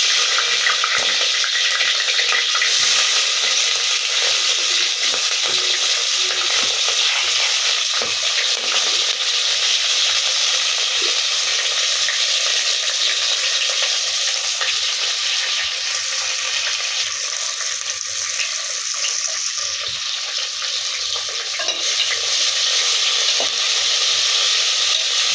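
Onion, green chilli, coriander, tomato and mint fry and are stirred in a pot for vegetable biryani, giving a loud, continuous sizzle with scraping stirs throughout and no talking.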